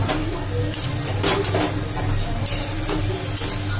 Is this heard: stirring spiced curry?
yes